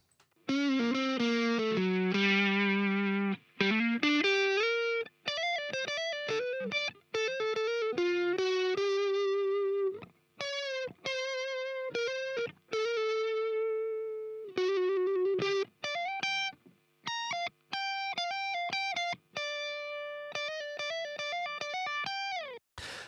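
Distorted electric lead guitar plays a continuous melodic line of sustained bent notes and quick runs, with a dynamic EQ cut near 3 kHz, loud and alone with no voices.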